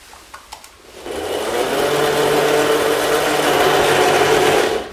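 A wallpaper pasting and cutting machine applying eco-friendly glue as it trims wallpaper: a few quiet clicks, then a loud, steady mechanical whir that runs for about four seconds and cuts off at the end.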